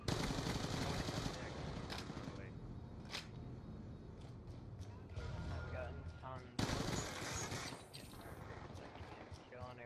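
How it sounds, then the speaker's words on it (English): Rapid bursts of MSMC submachine gun fire in a Call of Duty Hardpoint match, crackling repeatedly across the stretch with short pauses, as players talk over the shooting. "I'm switching to MSMC, it's my better gun."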